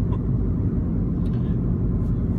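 Steady low rumble of a car's engine and road noise heard from inside while driving, loud and continuous with no break.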